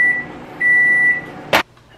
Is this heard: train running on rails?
no